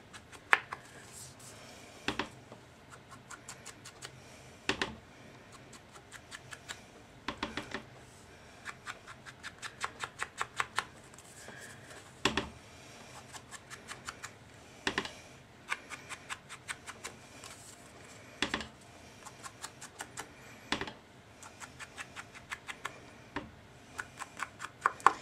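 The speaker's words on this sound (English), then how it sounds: "We're just going to go ahead and sponge the sides of our card." A sponge dauber loaded with Early Espresso ink dabbed along the edges of a card, heard as quick clusters of light tapping repeated in short bursts with brief pauses between.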